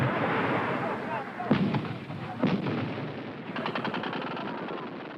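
A barrage of 122mm rockets lands in a valley in a wartime conflict, producing a dense roar of continuous blasts with a few sharper, heavier impacts standing out, loud and sustained throughout.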